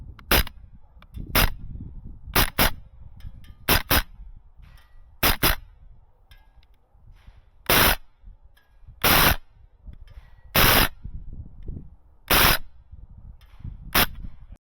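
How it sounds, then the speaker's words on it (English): An APFG MPX gas blowback airsoft SMG fires sharp cracks, some as single shots and some as quick double taps, spaced irregularly across the clip and loud and close over quiet background rustle. "I'm just trying to put some more rounds through the gun, see if it gets a little bit better"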